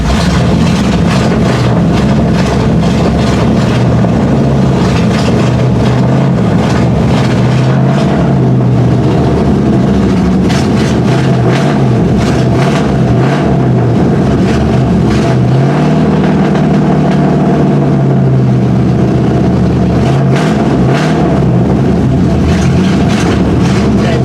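A Chevy K20 truck engine idles loud and close on its first start after sitting since autumn, a steady rumbling drone with slight uneven wavering throughout.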